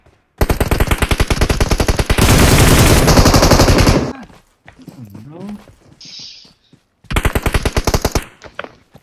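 Loud close video-game machine-gun bursts in a clan battle match, a long rapid rattle, a dense sustained volley, then a pause with brief voices before another rapid burst.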